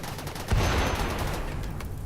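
Inferno cannons open fire in a RimWorld battle, a dense burst of overlapping shots that starts abruptly and keeps rumbling on in a steady barrage, with no talking.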